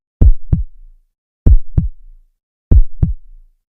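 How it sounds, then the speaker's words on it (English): Heartbeat sound effect in an audiobook: three loud, deep lub-dub double thumps spaced evenly about a second and a quarter apart, alone with no talk. "The heartbeat echoed again."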